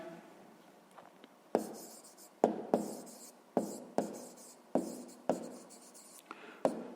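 A pen writing an answer to a 6th-grade math exercise by hand: close, quiet scratching strokes in short bursts with brief pauses between them, no talking.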